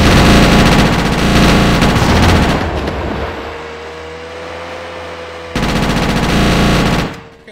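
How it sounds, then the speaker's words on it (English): Loud, dense gunfire fills a shootout in GTA Chinatown Wars: sustained rapid bursts, a quieter stretch with a steady tone, then another burst of shots before it cuts off. "Okay, at least he's shooting back."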